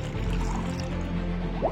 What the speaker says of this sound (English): Fill the beaker with water to the max level and pour it into the chamber